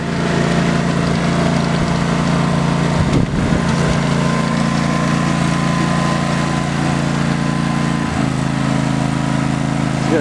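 A homemade trail mower built from a small lawn mower engine runs steadily in snow, a loud, continuous buzzing drone with a brief rough surge partway through; no voices.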